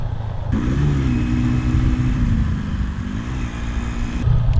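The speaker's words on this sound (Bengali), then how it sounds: "আমরা যাচ্ছি বাইকে আর কি" A motorcycle engine drones steadily with slight pitch rises and falls as the bike rides along a rural road toward guava orchards, with wind rush throughout and no talking.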